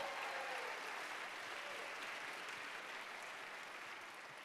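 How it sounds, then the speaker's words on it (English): An audience at a live Ignite Seattle talk event claps in a dense, even wash of applause that holds steady and slowly fades, sounding somewhat distant. "Round of applause for Chad, because"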